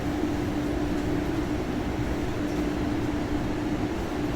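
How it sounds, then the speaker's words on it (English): An electric train at Jamaica Station in Queens gives a constant loud rumble with a steady hum, heard close and alone, with no talk over it. "This is one of the trains, the electric trains."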